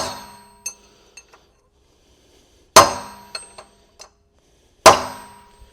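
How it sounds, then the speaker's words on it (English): A hammer taps a bearing into place on an IH 5488 tractor with sharp ringing clinks, a few quick taps followed by two louder blows spaced apart. "Let's take a little bit bigger hammer and work our way around"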